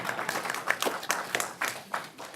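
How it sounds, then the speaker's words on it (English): A small group in a business seminar clapping sparsely, a handful of separate claps spread irregularly across a couple of seconds. "No one's giving Richard a round of applause"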